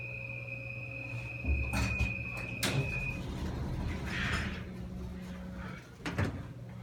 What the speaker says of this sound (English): The door will close. There it goes.